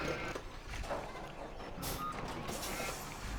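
A truck in the video game Farming Simulator 17 sounds steady reversing beeps over a continuous engine rumble, loud and close, with a brief hiss of air partway through.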